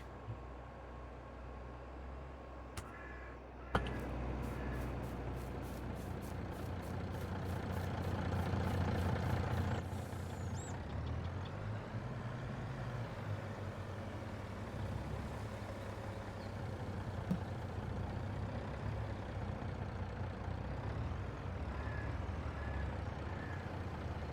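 A heavy old Mack truck engine idles in a farming simulator game, a steady low rumble that runs throughout at moderate level, with a brief clatter of sharp mechanical ticks early on.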